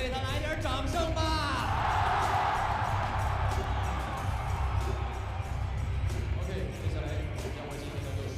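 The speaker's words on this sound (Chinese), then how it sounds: "让我们为他来点掌声吧。" Crowd noise at a live MMA match, with steady cheering and yelling from spectators in an arena, loud and continuous, while an announcer speaks over it.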